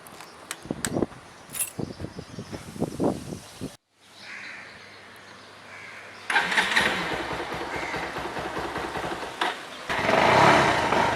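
A motorcycle engine cold-starting early in the morning: uneven cranking bursts, a short pause, then the engine catches and runs at a steady, loud, close idle that swells louder near the end.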